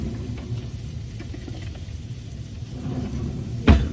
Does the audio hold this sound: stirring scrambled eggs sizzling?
yes